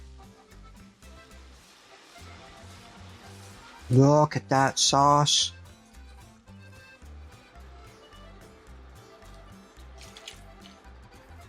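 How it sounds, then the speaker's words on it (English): Water pours steadily into a cooking pot for a one-pot cheesy taco pasta, a low running splash continuing under a nearby voice that speaks briefly. "So I'm going to put some water in here"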